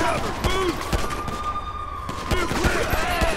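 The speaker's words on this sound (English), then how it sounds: "Shots fired, shots fired." Burst of gunfire in a GTA 5 LSPDFR police shootout with Virginia State Police, rapid cracks scattered through the clip alongside a wailing siren, loud and close.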